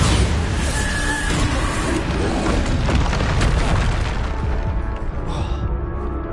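Bombarda spell explosion in Hogwarts Legacy, a loud, dense booming blast with rumbling debris that fills the whole stretch before thinning slightly near the end.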